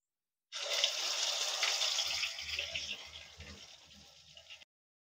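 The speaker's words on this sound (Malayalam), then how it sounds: "അങ്ങനെ എണ്ണയിലോട്ട് ദേ ചിക്കൻ വീണ് പൊരിഞ്ഞോണ്ടിരിക്കും" Chicken pieces sizzle in hot oil for a Kerala-style chicken kondattam, a bright, dense hiss that starts abruptly, holds loud and close, then fades slightly before cutting off.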